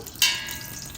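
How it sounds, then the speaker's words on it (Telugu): Tempering for rasam hitting hot ghee in a pan, a sharp sizzling burst that quickly settles into a fading crackle, close up. "రసం తాలింపు పెడుతున్నాను"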